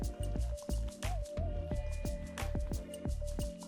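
Hands squish and knead a wet seasoned beef mixture with soy sauce and fish sauce, giving repeated close, moist squelching pulses in an uneven rhythm over a faint steady hum.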